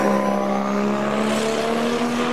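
Classic saloon race cars at Thruxton driving through the chicane, a loud, sustained engine drone with a steady pitch that shifts slightly as the cars pass close by.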